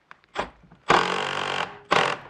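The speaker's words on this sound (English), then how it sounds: "And the drill actually shut itself off." A Makita combi drill drives a screw into wood in two loud sustained bursts, the first about three quarters of a second long, then stopping as the clutch cuts out, followed by a shorter restart, with faint handling clicks beforehand.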